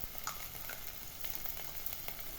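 Ginger and garlic paste fries in a pan for a green chicken dish, with a steady close sizzle and occasional light scrapes of stirring, no voices.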